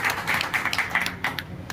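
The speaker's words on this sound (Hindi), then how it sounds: "एक बार अपने लिए तो जोरदार तालियां बजा लीजिए" An audience claps at a traders' meeting held by a political party, a moderate burst of overlapping handclaps heard at some distance, fairly even in rhythm without dying away.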